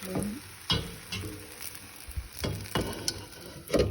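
Rava dosa fries in oil on a pan with quiet, scattered sizzles and crackling bursts that come in irregular pops over a soft background.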